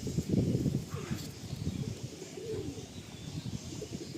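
Giribaj and Madrasi pigeons in a loft cooing in soft, repeated low throaty calls close by, with light rustling and faint background sounds.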